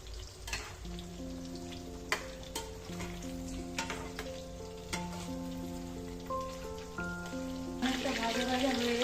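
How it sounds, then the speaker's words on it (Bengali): Chicken pakoras fry in hot oil with a continuous crackling sizzle and occasional sharp pops and stirring taps, under steady background music. "অনেকটা ভাজা ভাজা হয়ে এসছে,"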